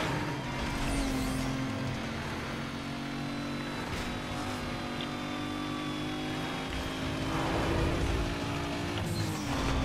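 A Toyota car driving in the Need for Speed Most Wanted video game, a loud steady engine drone with rising and falling revs and tire noise throughout, with no voices.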